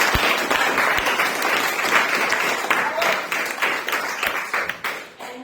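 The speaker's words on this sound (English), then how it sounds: "Give yourselves a big round of applause" A large conference audience claps in a sustained round of applause that stays steady and dense throughout, with a few louder individual claps near the start.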